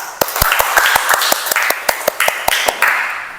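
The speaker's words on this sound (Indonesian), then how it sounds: "tepuk tangan buat temannya." A small group of students claps for a classmate in a classroom, a sparse run of distinct, fairly loud claps at an uneven pace that fades toward the end.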